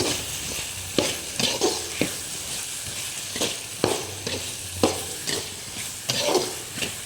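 Brinjal stirred and fried with masala in a pan for ennai kathirikai kuzhambu, with repeated scraping stir strokes over a steady sizzle, close and moderately loud.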